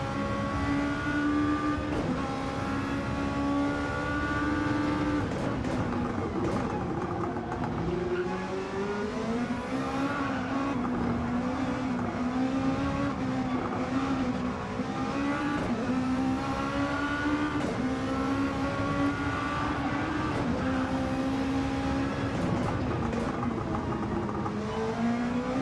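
Lexus race car heard on board in Gran Turismo 7 during an endurance race, its engine droning steadily and rising and falling in pitch through gear changes and corners, loud and continuous with no talking.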